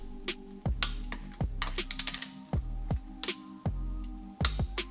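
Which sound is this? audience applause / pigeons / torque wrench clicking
torque wrench clicking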